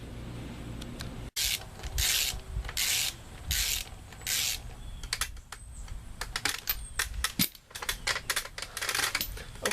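A ratchet tightens the upper ball joint on a 1999 Dodge Ram shop truck, with quick bursts of close metallic clicking in short runs, separated by pauses and some shuffling handling noise.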